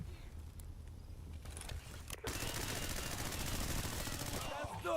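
Rapid automatic gunfire from S.T.A.L.K.E.R. GAMMA bursts out in dense, continuous rattling volleys after a quieter start of scattered shots, loud and close throughout.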